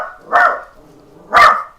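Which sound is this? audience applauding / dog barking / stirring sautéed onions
dog barking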